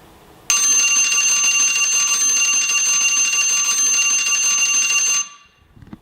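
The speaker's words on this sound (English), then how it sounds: "here's what the countdown timer will sound like" A loud electronic countdown timer alarm for a Taboo tournament rings continuously for about five seconds with a shrill high-pitched tone, then cuts off abruptly.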